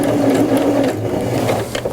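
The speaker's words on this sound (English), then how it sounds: "Your needle will go side to side, creating that zigzag." A sewing machine runs a zigzag stitch down a seam allowance as a seam finish, a steady, close whirring drone that holds for the full two seconds with no one speaking.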